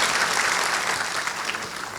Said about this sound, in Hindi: मैं चाहूँगी एक बार जरा तालियां बजा दें।